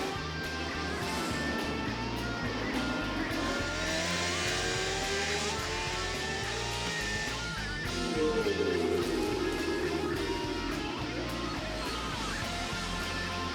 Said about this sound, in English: Field streaming by our speed shot, and once again Ben Spies has jumped out in front